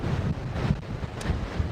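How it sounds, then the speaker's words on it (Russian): Strong warm wind buffets the microphone on a stormy sea beach at Anapa, a steady low roar with faint surf beneath it, no talking. "Ветер сегодня, ну, достаточно сильный, но он приятный, он теплый, он свежий"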